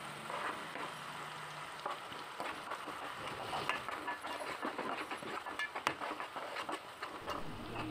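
Ground paste frying in oil in a kadai: a steady, close sizzle with small crackles and pops, continuous throughout with no talking.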